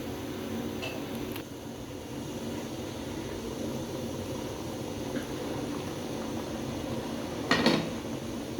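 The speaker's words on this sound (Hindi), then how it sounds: "देखिए आलू में उबाल आ गए" Potatoes simmering in a covered pot on the stove, a steady bubbling hiss throughout with a brief metallic clink near the end.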